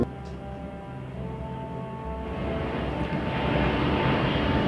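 A large airliner performs a flight display at the Paris Air Show, its steady jet engine roar building from a moderate drone into a louder, broader rush as it passes, with no talk over it.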